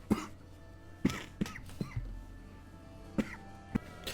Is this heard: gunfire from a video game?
no